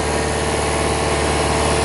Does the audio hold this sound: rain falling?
no